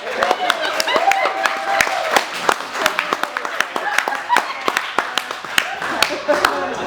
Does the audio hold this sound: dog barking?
no